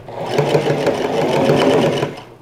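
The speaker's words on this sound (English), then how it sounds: "So first I'm sewing on this placket bit here." A sewing machine stitches the placket of a dress shirt in one steady, close, fast-running burst that slows and stops at the end.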